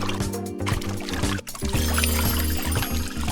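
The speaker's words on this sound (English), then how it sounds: "I'll pour our future Jell-O into each cup." Liquid gelatin dessert mix is poured into a series of cups at a kids' party craft table, producing a steady, moderately loud pour with a brief pause partway through.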